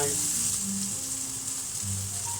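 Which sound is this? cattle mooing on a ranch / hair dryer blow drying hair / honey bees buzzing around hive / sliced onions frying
sliced onions frying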